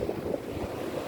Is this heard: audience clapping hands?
no